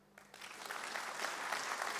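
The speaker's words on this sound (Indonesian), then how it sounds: "Tepuk tangan." A church congregation starts clapping during a sermon, the applause swelling quickly from quiet to a full, even roar of many hands.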